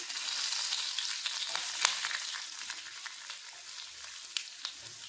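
Onion, tomato and curry leaves sauté in a hot pan for an egg chutney, giving a steady bright sizzle with small crackles and pops running throughout, close and unbroken, with no voices.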